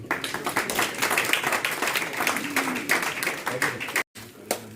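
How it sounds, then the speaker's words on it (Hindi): A live audience gives a thin, scattered round of clapping at an event. The applause is fairly close and stops abruptly near the end, with a voice briefly audible beneath it. "तालियां थोड़ी सी बुझी बुझी नजर आ रही है"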